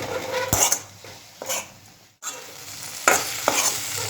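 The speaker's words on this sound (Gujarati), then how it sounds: "બસ હવે બધું ટોસ કરવાનું છે એક સાથે" Aloo gobi sabzi with spices and chaat masala being tossed in a pan: several close bursts of scraping and stirring over a gentle sizzle, with a short pause midway and no voices.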